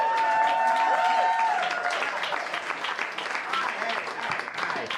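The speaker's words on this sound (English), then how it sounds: "Give it up for Shane Torres." A comedy club audience applauds comedian Shane Torres, dense clapping and crowd noise continuous throughout, with a voice calling out over it at the start.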